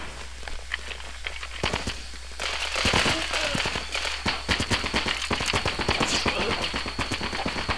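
Gunfire and explosions crackle in the Running with Rifles multiplayer game, with a grenade among dense sharp bursts. The cracks and booms repeat rapidly and loudly over a steady background hum.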